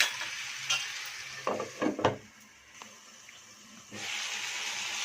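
Meat pieces being stirred in a pot with chilli powder, salt and turmeric for a goat head curry, soft scraping and light sizzling strokes in a few close bursts, with faint background noise.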